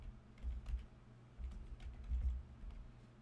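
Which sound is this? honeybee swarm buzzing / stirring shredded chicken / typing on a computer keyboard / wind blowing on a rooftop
typing on a computer keyboard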